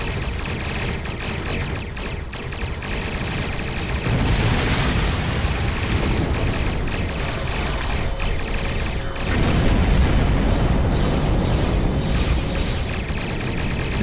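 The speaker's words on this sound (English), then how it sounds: "torpedo spread is a really nice power. By its name, it's a spread of torpedoes" Torpedo spread fired from a starship in the space combat game Star Trek Online: continuous dense barrage of booming explosions and rapid weapon fire, loud throughout, growing heavier midway and again near the end, with no talk.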